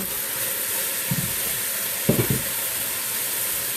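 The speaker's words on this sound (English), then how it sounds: "You want to saute this up a little bit because I want the broccoli to have a lot of flavor" Broccoli sautéing in a pan, a steady close sizzle with a couple of brief stirring scrapes partway through.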